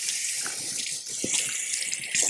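An old clean towel wetted under running water for covering sourdough, a steady hissing splash of tap water with faint drips, fairly close and continuous throughout.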